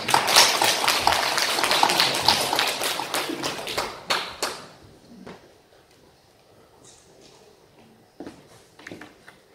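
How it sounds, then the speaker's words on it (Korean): Audience applause greets the association president at the opening of an outdoor arts festival, with dense loud clapping that fades after a few seconds into scattered claps and quiet crowd noise. "큰 박수로 맞이하십시오"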